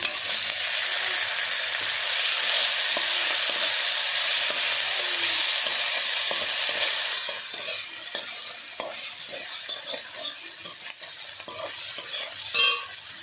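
Small fish with torn green chillies, salt and turmeric frying in a pan over low gas, a bright continuous sizzle that softens midway, broken by scraping stirs and light clinks of a utensil against the pan.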